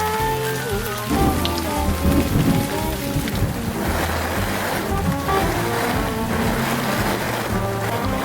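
Steady rain patters densely under an improvised sail rigged from scrap, its hiss continuous and close, with a low tonal hum running underneath.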